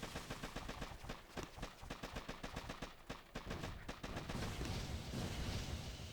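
Machine gun fire in the Boom Beach mobile strategy game, rapid rhythmic bursts of rattling shots that run for several seconds before giving way to a denser, rumbling wash of battle noise.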